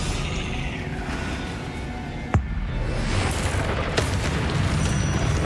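Spell explosions from Confringo and Bombarda in the video game Hogwarts Legacy: a dense, continuous roar of blasts with a sharp bang near the middle and another crack later, loud and unbroken with no talking.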